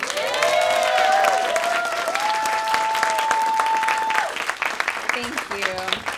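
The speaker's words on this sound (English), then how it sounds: "So another round of applause for that, please." An audience at a studio dance showcase bursts into loud, sustained applause and cheering filling the room, while a voice carries over the clapping and the sound thins out toward the end.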